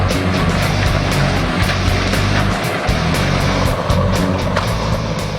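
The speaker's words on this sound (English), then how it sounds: "Shown here is the Beast processing clearing waste used for boiler fuel" A Bandit Beast recycler grinding clearing waste into boiler fuel, a loud continuous heavy engine roar with rhythmic surges and repeated sharp impacts as material feeds through the grinder.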